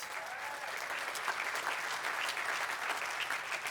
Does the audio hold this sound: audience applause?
yes